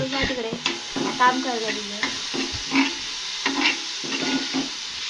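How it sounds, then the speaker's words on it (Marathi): Sliced onion roasts in a pan while a spoon stirs and scrapes it, giving a steady frying hiss broken by brief clatters; faint voices come and go in the background. "सांग कांदा लाल होई टाकत भाजायला हवा."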